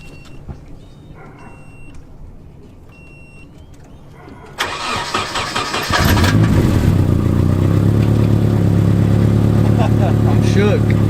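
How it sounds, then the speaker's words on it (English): Nissan Silvia four-cylinder cold-starting on a stock dual-tip exhaust with a holed muffler, cranking briefly then catching into a loud, steady, slightly raspy idle close by. "Stock dual tip exhaust, but there is a hole in the muffler, so it's a little bit louder than stock."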